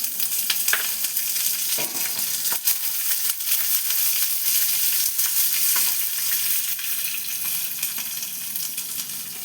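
Curry leaves crackle and spit in hot oil while cooking dhokla, a dense, steady sizzle with sharp pops scattered throughout, close and fairly loud, with no voices.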